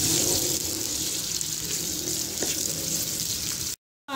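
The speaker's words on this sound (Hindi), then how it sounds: "पाँच मिनट मैंने प्याज को फ्राई किया है कुकिंग ऑयल में" Onions frying in hot cooking oil for a mutton karahi give off a steady, close, hissing sizzle that runs without a break and then cuts off abruptly near the end.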